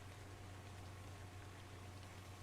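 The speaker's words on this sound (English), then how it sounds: "Also the glitchy rain." Glitchy rain in ARK: Survival Evolved hisses steadily and faintly over a low, constant hum, with no change in level from start to end.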